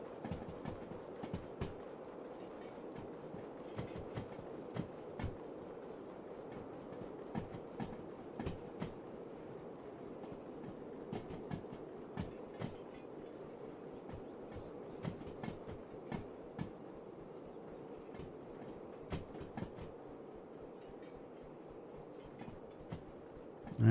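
A heavy locomotive in the Derail Valley train game rolls along the rails, hauling a load of over 500 tons. A steady low rumble runs under evenly spaced clicks from the wheels for the whole stretch.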